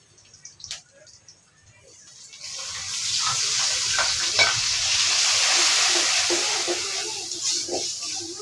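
Masala paste of onion, ginger, cumin, turmeric and salt frying in oil in a pan, starting quiet with a few clinks, then swelling into a loud, steady sizzle with scraping stirs.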